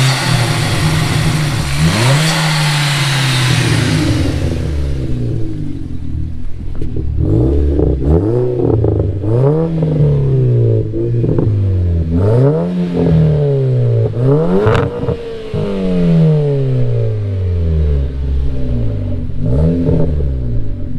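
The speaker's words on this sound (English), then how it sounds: "Can we hear a few revs?" A loud 355 bhp tuned Mk5 Golf GTI engine revs up hard again and again, each rise followed by a drop back toward idle, close by and dominating the scene.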